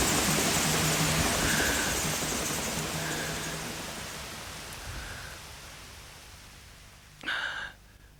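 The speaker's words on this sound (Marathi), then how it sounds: "मुसळधार पाऊस कोसळायला लागला." Heavy rain pours down steadily, making a dense, even hiss that fades gradually, with a brief louder rustle near the end. No one speaks.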